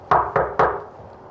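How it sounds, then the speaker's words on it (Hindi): Three sharp knocks on a wooden door, evenly spaced and close, each a hollow thud that fades quickly, followed by quiet. "दरवाजा कोई नॉक करे"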